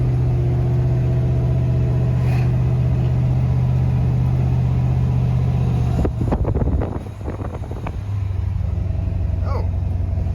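An old truck, freshly serviced with new spark plugs, drives into town with a steady low engine rumble and road noise, then a brief clatter of shifting and revving before the drone settles again.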